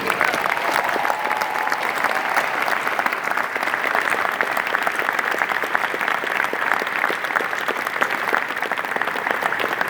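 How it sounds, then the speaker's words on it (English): A large audience gives a rabbi a sustained round of applause, dense steady clapping at full volume throughout with no voices on top. "I'd like all of you please to give a round of applause to Rabbi Shaya Kilimnick"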